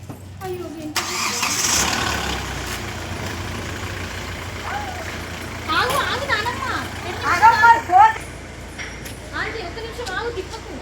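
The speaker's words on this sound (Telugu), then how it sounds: "మేము కార్ ఇంజన్ అయితే స్టార్ట్ చేసి పెట్టుకొని జిస్ట్ తీస్తున్నాము" A car engine cranks and catches near the start, then idles steadily during a home vehicle blessing ceremony while people talk nearby over the running motor.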